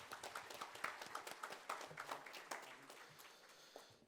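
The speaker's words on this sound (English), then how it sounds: "let's welcome our today's speaker with a big round of applause" Scattered audience clapping welcomes the day's speaker at a direct tax refresher course, sparse and uneven hand claps rising and thinning over about four seconds, fairly faint and distant in a hall.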